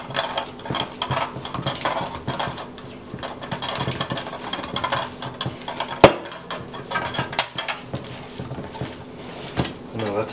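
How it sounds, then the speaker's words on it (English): Meatball mixture being stirred and mashed in a noisy bowl, giving a busy run of scraping, clinking and knocking sounds close by, with intermittent talking over it. "No, that's a noisy bowl."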